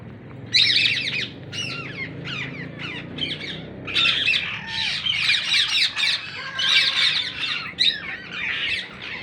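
Wild Indian ringneck parrots squawk in a shrill, overlapping chorus. Their harsh calls come in steady, loud bursts throughout, over a low outdoor rumble.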